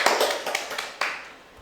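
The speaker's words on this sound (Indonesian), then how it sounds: "Berikan tepuk tangan untuk kelompok 1." A short burst of hand clapping from a small group of students in a classroom, a few seconds of scattered claps fading out quickly.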